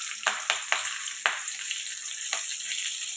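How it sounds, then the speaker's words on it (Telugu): Whole garam masala (cinnamon and cloves) frying in hot oil with green chillies for paneer pulao: a steady close hiss broken by several sharp spattering crackles early on and one more near the end. "మసాలాలు ఇలా ఫ్రై అవుతున్నాయి కదండి"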